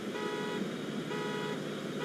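A steady car-like horn held for about two seconds from a train in Transport Fever 2, even and continuous, with no talk over it.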